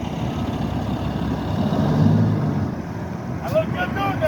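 A heavy asphalt truck rumbles with a deep, steady engine drone at a street paving site on Washington Street in Roxbury, loud and close, with a person's voice briefly heard near the end.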